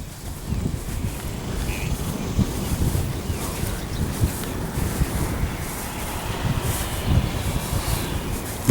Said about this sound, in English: about 10 mile an hour winds today